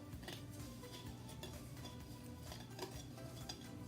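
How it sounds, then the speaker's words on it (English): Soft butter and sugar being creamed in a bowl, with a steady scraping and clinking of a utensil against the bowl, faint and continuous, no talking. "give that a good creaming."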